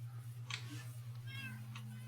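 Cats meow in a Minecraft pet store, several short high mews scattered over a steady low game hum, moderately faint and close.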